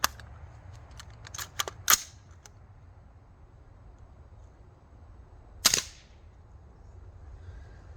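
Suppressed rifle firing subsonic 5.56 ammunition outdoors, heard as a cluster of sharp cracks and clicks near the start and one clear, dry report about two-thirds through, each short and snappy against quiet background hiss.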